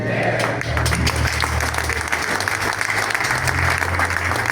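An audience at an equipment-makers' evening gala claps steadily, a dense, even wash of applause that carries on throughout without letting up.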